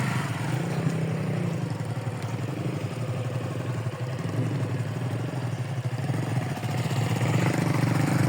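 A motorcycle engine drones steadily and loudly throughout, with rattling clatter of the bike jolting over a rocky stream-bed trail in hilly terrain.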